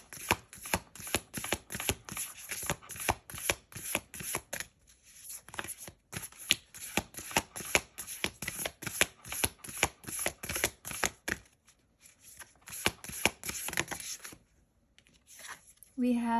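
Tarot and Moonology cards are shuffled by hand in rapid, rhythmic riffles and slaps. The bursts are fairly soft and close, with short pauses in between, and a voice is faintly present.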